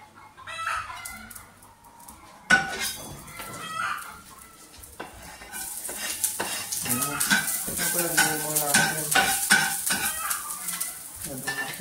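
Garlic, meat, egg and rice fry in a pan, a sizzle building and growing denser over time with stirring clatter, while a rooster crows and clucks nearby and a voice speaks briefly.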